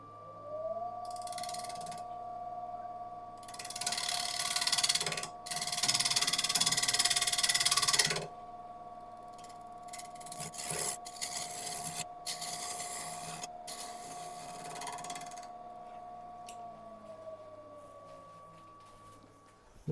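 A wood lathe hums with a steady motor tone while a tool bites into yew and resin in several short bursts of rough, scraping cutting noise.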